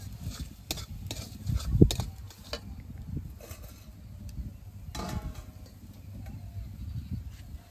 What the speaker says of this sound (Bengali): মশলা ভাজা হয়ে গেছে, এবার মাংস দিয়ে দেবো।